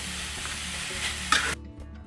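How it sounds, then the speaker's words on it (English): Sausage sizzles in a pan while a spatula scrapes and chops through it, a brief close burst of hiss and clatter that cuts off abruptly near the end. "Grab a spatula, cut it up into small bite-sized pieces. Cook the sausage all the way through."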